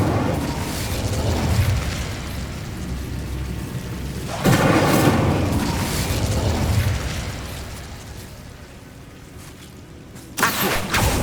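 Fiery Incendio spell blasts from Hogwarts Legacy gameplay on PlayStation 5: a loud whooshing burst, a sustained roaring rumble that fades, then a second sharp blast near the end, with no talking.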